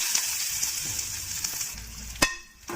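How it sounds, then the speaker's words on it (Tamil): Mustard seeds, urad dal and onion sizzling in hot oil in a kadai for a spinach chutney tempering, a bright hissing fry with light crackles, then a sharp clatter and a quieter sizzle at the end. "தாளிப்புக்கு ஒரு வடச்சட்டியில் எண்ணெய் ஊற்றியாச்சு இப்போ கடுகு உளுந்த பருப்பு சேர்த்துக்கலாம் இப்போ இதில் வெங்காயத்தை சேர்த்துக்கலாம்"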